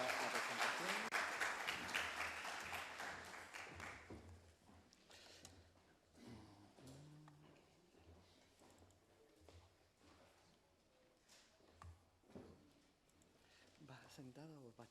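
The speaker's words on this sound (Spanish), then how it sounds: "Un fuerte aplauso para Elisa Otero" Loud, dense applause from a conference audience greets speaker Elisa Otero, holding strong for a few seconds before fading away as a voice begins talking over the quieter room.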